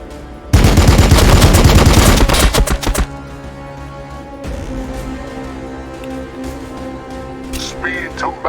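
Heavy armor unit in Warhammer 40k: Battlesector opens fire with a loud, dense burst of rapid gunfire lasting a few seconds, then cuts out to quieter battlefield ambience with faint distant shots.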